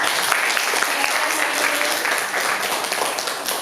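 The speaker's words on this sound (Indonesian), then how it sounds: "Silakan tepuk tangan untuk kelompok kita hari ini" A class of students applauds their group at the close of a lesson, steady dense clapping that runs the whole time at an even level, close by and filling the room.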